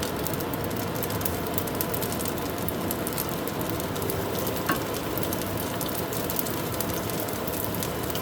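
Minced garlic fries in oil in a hot pan beside pushed-aside rice for chicken fried rice, giving a steady, dense sizzle that holds evenly throughout, close and loud, with no talk.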